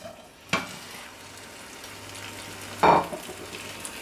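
Potato tortilla sizzling in a frying pan as it cooks on its second side, a soft continuous frying hiss broken by two sharper scrapes or knocks of the pan, with no voices.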